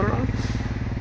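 A motorcycle engine runs close by on a road under construction, a steady throbbing putter with rhythmic pulses held throughout the brief moment.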